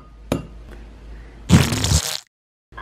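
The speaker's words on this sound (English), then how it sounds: "We're gonna have to crack it up 1 egg" A child cracks an egg for blueberry scone batter: a sharp tap on a hard edge, a fainter second knock, then a brief wet crackling burst before silence.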